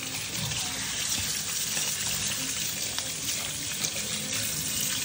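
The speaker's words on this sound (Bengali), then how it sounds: "চলো মাছ ধোয়া কমপ্লিট হয়ে গেছে।" Pangas fish being washed under a running tap, a steady loud rush of water splashing into a sink with faint handling of the fish and no talking.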